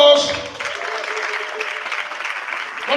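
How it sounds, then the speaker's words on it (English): Audience applause at a live stage event, a continuous wash of clapping from a crowd at moderate loudness for a few seconds. "A big round of applause."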